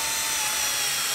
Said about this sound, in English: this drill bit goes down further than the wood